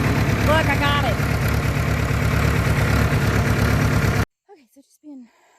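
A tractor engine idles with a steady low rumble for about four seconds alongside brief voices, then cuts off abruptly into near silence broken by a few short sounds.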